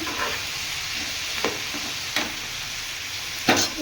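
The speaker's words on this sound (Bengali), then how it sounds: "এটা ভাজা ভাজা হচ্ছে ততক্ষণ" Ingredients for a sour mango curry frying in a pan give a steady sizzle. Stirring scrapes recur every second or so, loud and close.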